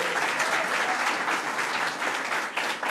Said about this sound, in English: So let's give a round of applause for our great mayor.